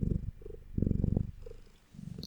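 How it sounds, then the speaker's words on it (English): A cat purrs close by in soft rhythmic bursts, each rumbling pulse swelling and fading with its breathing. "Oh, it's purring."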